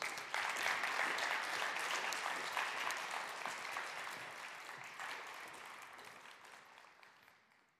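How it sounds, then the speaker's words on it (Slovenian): Sustained audience applause welcoming a board member of the Slovenian Designers' Society onto the stage at a Slovenian woodworking industry event, steady dense clapping that slowly fades toward the end. "ki ga z velikim aplavzom tudi vabim na oder"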